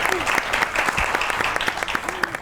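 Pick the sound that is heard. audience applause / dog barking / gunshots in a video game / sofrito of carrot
audience applause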